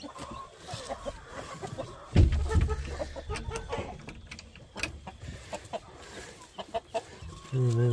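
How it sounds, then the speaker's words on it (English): Chickens cluck and call inside a homestead coop, several overlapping bird voices near and moderately loud, with a heavier burst of clucking partway through and a low sustained call at the end. "And another bird came in there too."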